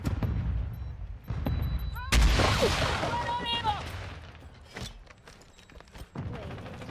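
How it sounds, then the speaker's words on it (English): Video-game combat: a grenade blast followed by bursts of gunfire and mechanical clatter, loud and close, with a voice heard partway through. "Tossing grenade!"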